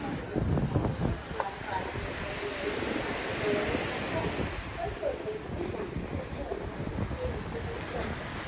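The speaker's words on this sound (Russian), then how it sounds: "У нас легкие волны." Light sea waves wash onto a beach at Adler, a steady broadband rushing with soft swells, mixed with wind buffeting the microphone and a voice talking over it.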